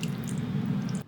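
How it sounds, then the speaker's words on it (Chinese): Running water over raw shrimp being rinsed clean in a kitchen sink, a steady close splashing flow that cuts off abruptly at the end. "下面我们给它冲下水"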